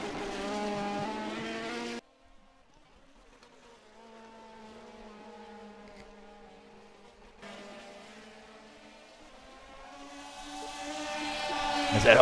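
Race cars in an IndyCar Brasil DTM event at Slovakiaring fight for position on track, engines buzzing in harmonic whines that fade as one car passes and then swell loudly again as the pack closes in.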